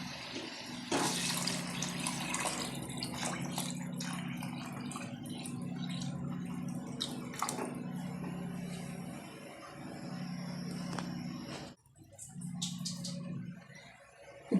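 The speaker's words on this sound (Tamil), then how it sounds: "தண்ணி ஊற்றியாச்சு" Water pours steadily into a cooking pot for sambar rice with lentils, a long continuous splashing rush that breaks off briefly near the end and then resumes.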